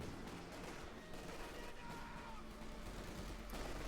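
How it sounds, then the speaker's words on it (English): Quiet battlefield gunfire and artillery from the Company of Heroes 2 World War II strategy game: steady distant bursts of shots and thuds rolling on without pause, faint and low in level throughout. "So much more artillery."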